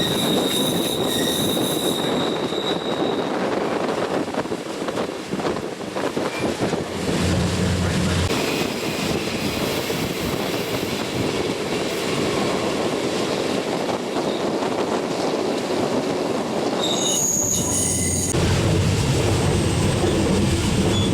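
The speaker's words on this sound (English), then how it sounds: "freight trains." Freight train wheels squeal loudly and continuously on the rails near the Thompson River in Rainbow Canyon, a sustained high metallic screech over rumbling railcars, close and alone without speech.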